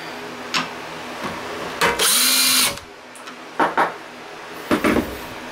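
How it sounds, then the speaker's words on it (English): A power drill with a countersink bit whirs in one sustained burst, countersinking holes, followed by short tool clicks and clunks nearby, with no talking. "Just using a drill and a hand countersink, nothing fancy."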